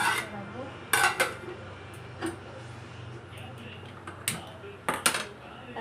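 Metal cooking pots and utensils clank and clatter in a home kitchen as rice is put on to cook, a few sharp knocks and scrapes spread across quiet background.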